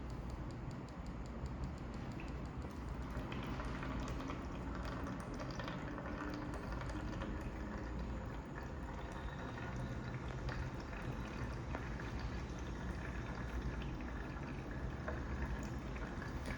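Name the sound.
water flowing out during wastewater treatment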